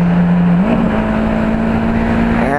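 A Lamborghini engine roars loudly and steadily, its pitch climbing once early on, then holding a strong continuous growl close by.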